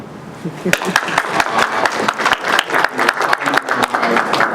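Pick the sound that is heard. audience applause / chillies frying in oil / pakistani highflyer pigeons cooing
audience applause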